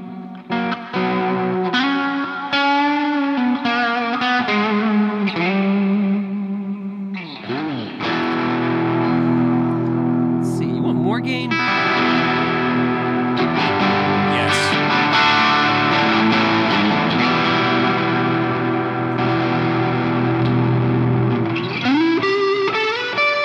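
Distorted electric guitar through an EarthQuaker Devices Astral Destiny reverb pedal, mix around 50%, drenched in reverb and chorus, sustained chords washing into a long echoing tail, loud and continuous throughout.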